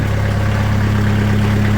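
The engine of a sawmill in cold Wisconsin winter weather runs at a steady idle, a loud, close, even rumble with a constant low hum and no change in pitch.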